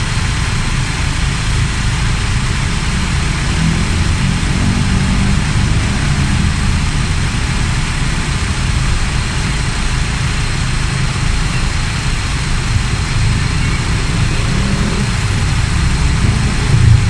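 A Toyota ACV40 engine idles during an alternator charging test, a loud, steady low hum and drone that continues unchanged throughout, with no talking.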